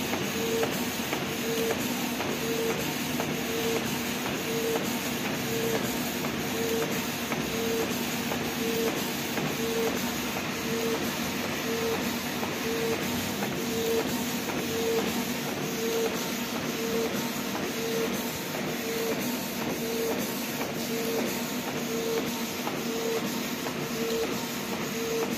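A Canon inkjet printer runs continuously while printing on art paper, a dense steady mechanical whir with a faint regular pulsing tone and light shuffling, close and unbroken for the whole span.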